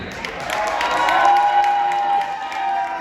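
A live concert crowd at a hip-hop show in Fort McMurray, Alberta, cheering and shouting loudly in a sustained swell across the whole stretch, with a high whistle rising out of the noise.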